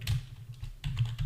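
Quick keystrokes on a computer keyboard come in two short close bursts of clicks separated by a brief pause, with no talking.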